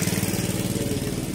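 A small local boat engine on a canal chugs in a fast, even putter, steady and fairly close, with no other sounds.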